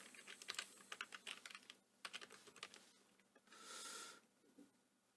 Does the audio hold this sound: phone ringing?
no